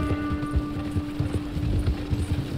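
Horse hooves clip-clop steadily in Red Dead Redemption II, a rapid rhythmic beat of hoofsteps under a steady tonal hum, with no talking.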